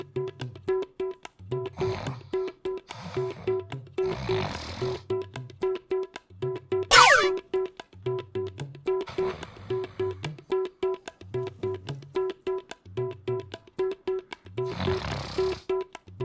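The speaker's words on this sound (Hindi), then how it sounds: "क्या खर्राटे मारते हैं पता नहीं" Loud snoring repeats in a steady rhythm, with each deep, rumbling inhale followed by a pause, and one sharp whistling sound breaks in midway through.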